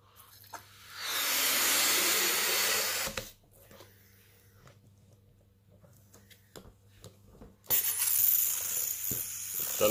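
Air hisses out of a balloon-powered hovercraft in two loud, steady bursts, the first lasting a couple of seconds and the second starting near the end, with a quiet stretch between them.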